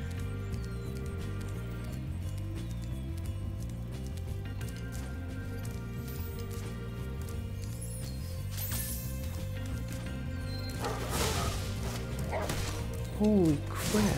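Dogs bark in Spyro Reignited Trilogy, sharp yips and bow-wows sounding over the looping game music, with a smash of effects near the end.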